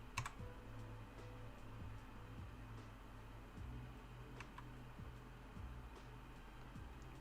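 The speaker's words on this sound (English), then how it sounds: "Oh, she's typing." Faint typing on a computer keyboard, with quick, irregular clicks and taps scattered across the clip over a low background hum, with no talking.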